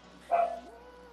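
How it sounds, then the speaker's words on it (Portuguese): A dog gives a short single bark or yip near the mic, standing out briefly against a quiet room. "Hot, Hot Rod, desculpa pelos cachorros, mano."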